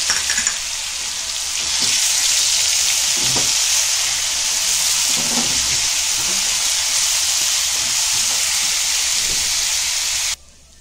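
Onions sizzle and crackle steadily in a hot pan, a loud continuous frying hiss with occasional stirring scrapes, ending abruptly.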